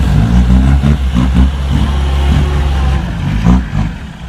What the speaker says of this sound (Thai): ใช้รถไถลากขึ้นเลย